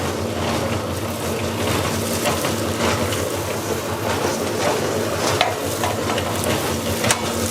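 A small cement mixer drum turns while substrate is mixed with water, producing a dense, continuous churning rumble with gritty scraping and occasional knocks, steady and close throughout.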